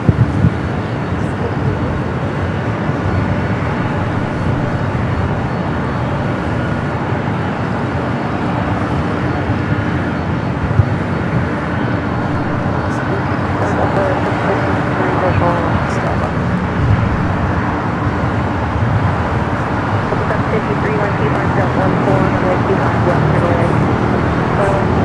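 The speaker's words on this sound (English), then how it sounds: "Queen rolling down the 24 left, flight 457 heading back to Frankfurt" A Lufthansa Boeing 747-8 Intercontinental takes off down runway 24L at LAX, producing a long, heavy, rumbling engine roar that stays steady and loud, with people talking throughout.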